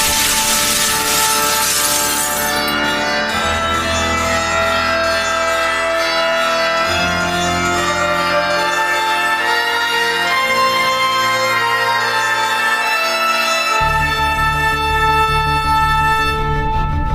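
Glass window shattering in a dramatized gothic fantasy audiobook scene: a bright crash followed by a long, dense spray of tinkling shards with low rumbling layers beneath, loud and sustained.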